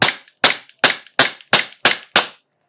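A Umarex Glock 42 gas-powered airsoft pistol fires seven sharp, loud, close cracks in an even, rapid rhythm, each snapping off quickly before the next, then silence.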